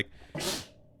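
A single sharp sneeze bursts out close by, brief and forceful, then fades in a quiet room.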